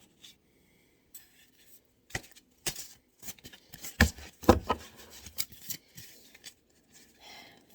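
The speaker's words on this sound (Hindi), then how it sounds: "ये बहुत सारे कार्ड हैं, इनको शफल करना इजी नहीं है।" A large deck of tarot-style reading cards being shuffled by hand, with irregular bursts of riffling, slapping and sliding card sounds, close and fairly quiet, alone without speech.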